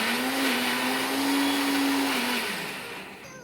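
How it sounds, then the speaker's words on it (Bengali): A kitchen mixer grinder jar grinding cooked vegetables into a paste, a loud steady motor whine with a constant pitch that drops slightly as the motor winds down at the end. "এবার আমি মিক্সির জারে এটা গুঁড়িয়ে নিচ্ছি।"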